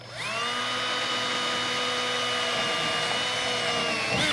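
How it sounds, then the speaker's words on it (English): A power drill whines steadily at high speed, boring through material for several seconds before winding down abruptly at the end. "I'm gonna go ahead and drill a hole."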